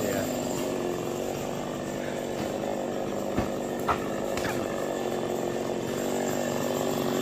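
Chainsaw cutting down a fig tree, a steady loud engine drone running the whole time with a couple of brief sharp knocks partway through.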